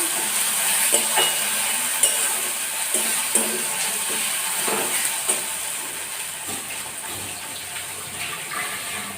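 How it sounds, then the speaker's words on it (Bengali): A spoon stirs mutton liver curry in a pan, giving a steady wet sizzle with regular scraping knocks about every second, close and continuous, with no voice. "সব নাড়তে লাগলাম"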